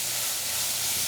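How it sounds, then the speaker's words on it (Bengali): Chopped onions fry in hot oil for a bottle gourd and prawn curry (lau chingri), giving a dense, even, loud hiss that holds steady without a break and has no voices over it. "পেঁয়াজটাকে লাল করে ভাজবো।"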